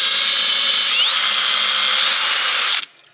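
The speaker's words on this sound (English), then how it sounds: "So let's get the Dremel going, and I got to go in." A Dremel rotary tool grinding on a Melling M55 Chevy oil pump gives a loud, steady high-pitched whine that runs continuously, then cuts off abruptly near the end, leaving faint room noise.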